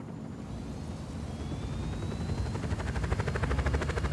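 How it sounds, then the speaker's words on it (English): A helicopter in the Just Cause 4 video game drones with a steady, throbbing rotor chop that grows slightly louder and more pulsed over a few seconds, heard alone. "New chopper."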